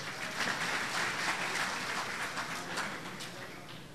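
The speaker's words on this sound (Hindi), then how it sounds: "तालियां ज़रा ज़ोर से बजाइए।" Audience applause for a satirical Urdu-Hindi poet at a mushaira, a dense continuous clatter of many clapping hands filling the hall, steady for several seconds and gently tapering toward the end.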